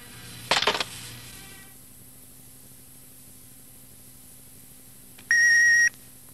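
A single answering machine beep sounds clearly, a steady electronic tone lasting about half a second, after an earlier short clatter and a quiet hiss of line noise.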